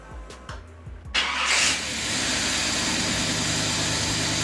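A high-torque starter cranks a 1972 Impala engine with rhythmic chugging turns before it catches and settles into a steady, loud idle rumble nearby.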